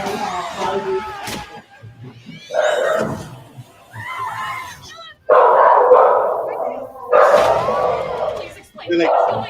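Dog barks and yips dubbed over a horror movie trailer, popping up in bursts between stretches of loud trailer dialogue and music, with people talking throughout.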